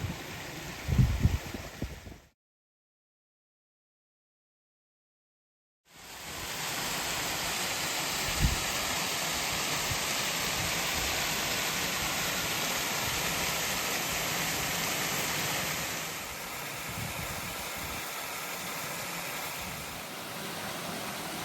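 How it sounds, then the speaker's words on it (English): An unnamed waterfall on Black Hill roars as a steady broadband rush, close and continuous after a brief earlier sound and a gap of silence, easing slightly toward the end with no voices. "this is a very pretty waterfall"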